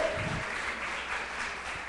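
Congregation in a church applauding, a steady wash of many hands clapping at moderate volume that holds throughout, with a low rumble near the start.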